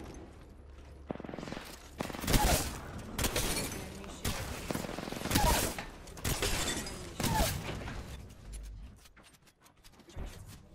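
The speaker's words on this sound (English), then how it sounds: "Broken enemy shield." Enemy shield shattering during an Apex Legends firefight, among rapid bursts of gunfire, booms and crackling impacts that come in dense waves before fading toward the end; no talking.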